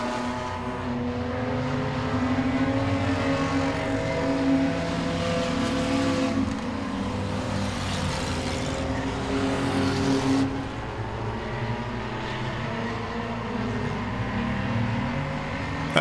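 Race car engines drone and roar steadily on a track during a race, the pitch rising and falling as the cars run, fairly loud throughout.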